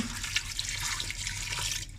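Beef stock mixed with hot water pours steadily into a pressure cooker, a continuous close splashing gush lasting about two seconds before it stops.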